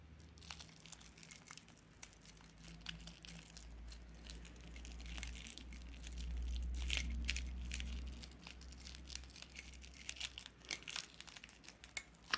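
Tape pulled and peeled off the packaging of a cheap Submariner homage watch, giving quiet crinkling and tearing crackles scattered irregularly over a low steady hum.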